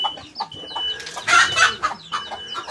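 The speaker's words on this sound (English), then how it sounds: "Just fucking disrupting the birds." Backyard chickens cluck and squawk in a busy, agitated chorus of short repeated calls, nearby and fairly loud, with one louder burst of squawking in the middle.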